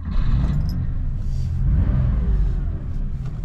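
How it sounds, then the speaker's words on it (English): A vintage air-cooled Porsche 911 engine revs loudly close by, a deep throaty rumble swelling and easing in a couple of throttle blips before settling into a strong idle. "There's something special about an air-cooled engine."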